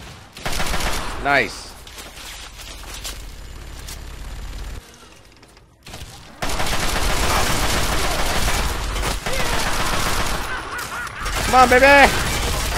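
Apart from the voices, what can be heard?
gunfire in the video game Fallout 3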